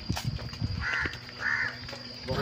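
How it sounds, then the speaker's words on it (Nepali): Two loud, close crow caws ring out one after the other in a forest setting, with faint background noise between them. "अब यो कागले पो यहाँ गिजाउनु थालिसक्यो यार"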